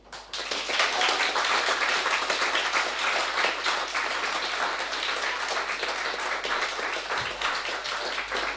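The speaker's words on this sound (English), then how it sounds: "You want to keep applauding" An audience applauds at the close of a talk on bugs, text and performance in games, with dense sustained clapping that starts abruptly and holds steady, loud and fairly near, with no talk over it.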